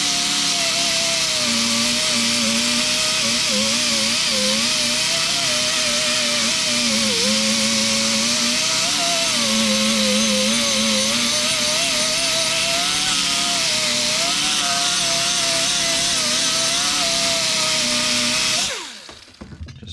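An old Holley carburetor being polished with an electric power buffer: a loud, continuous whining motor drone that wavers slightly in pitch as the metal is pressed to the wheel, running steadily for nearly twenty seconds before cutting off.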